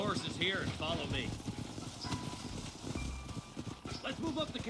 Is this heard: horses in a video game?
yes